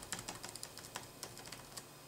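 Fingers type steadily on the chiclet-style keyboard of an HP ProBook 6470b laptop, producing soft, close, irregular key clicks over a faint hiss.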